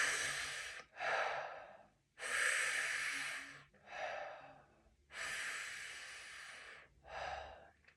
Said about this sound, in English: 3 mouth breaths